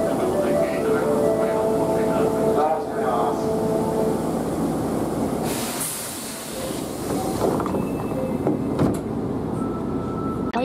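An Osaka Metro 10 series train with IGBT-controlled equipment departing Umeda station, heard from inside: continuous rumbling motor and wheel noise with a rising pitched tone, and talk over it.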